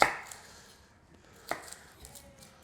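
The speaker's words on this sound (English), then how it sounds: "Now let's work on our onion. As always, we're going to chop off the top." A kitchen knife chops the top off an onion on a cutting board. A sharp thunk comes at the start, then a second clear chop midway, with faint scraping between them at close range in a quiet kitchen.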